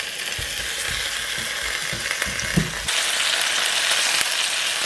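Chopped tomatoes sizzle in a pot with olive oil and garlic over low heat, a steady close frying hiss with a few stirring clatters, growing slightly louder partway through.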